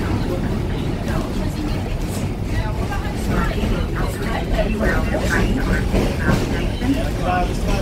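The Kuranda Scenic Railway train rolls along with a steady, loud, broadband rumble and rattle that stays even throughout, while a voice speaks over the noise.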